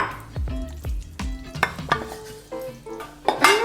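A spoon stirs a gruyère cheese mixture in a saucepan, giving a run of close metallic clinks and scrapes against the pan with a soft sizzle beneath. There is no talk.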